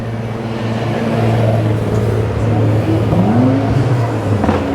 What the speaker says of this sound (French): Oh, la R33 GTR, le bruit qu'elle fait.